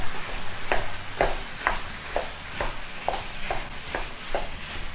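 Ground turkey being chopped and stirred with a utensil in a sizzling frying pan, a steady series of scraping taps about twice a second over a continuous fry hiss, with no talking.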